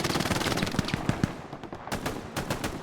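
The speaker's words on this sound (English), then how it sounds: "Taka taking fire from an MG." Rapid machine gun fire in a multiplayer shooter game, dense bursts of sharp rattling shots close by with scattered distant gunfire, no voices.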